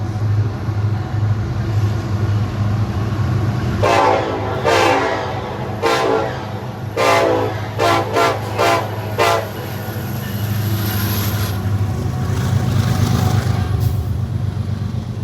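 A Canadian Pacific ES44 freight locomotive rumbles past with a low, steady engine drone, sounding a series of loud horn blasts in a long-short rhythm while railcars keep rolling by afterward.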